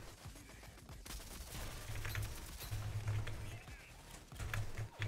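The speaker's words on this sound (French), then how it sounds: "Ça vient d'où les tirs là?" Faint bursts of gunfire in the shooter Rogue Company crackle through a busy game mix, with repeated volleys and low thumps spread across five seconds, quiet and somewhat distant.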